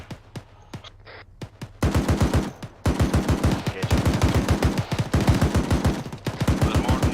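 Bursts of AK rifle fire in the military shooter Arma 3, a string of rapid automatic shots in repeated volleys, loud and sharp with brief gaps between strings.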